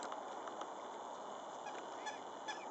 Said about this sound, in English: Oh, here's the swans coming. What are they doing? Flying.